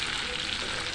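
Ground spice paste frying in hot oil and butter for spicy chicken sukka, making a dense, steady, close sizzle with no break.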